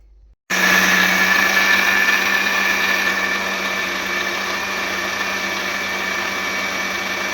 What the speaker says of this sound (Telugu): ఇట్లయితే గ్రైండ్ చేసుకున్నాను చూడండి